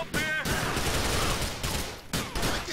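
SMG gunfire in GTA IV: The Lost and Damned comes in dense, continuous bursts that fill nearly the whole moment, with a brief gap before the shooting resumes, loud and close.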